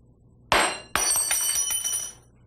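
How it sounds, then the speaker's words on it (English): A glass laboratory thermometer breaks on a bench, a sharp crack followed by a second impact and a brief ringing tinkle of scattered glass, close and loud. "When a thermometer breaks,"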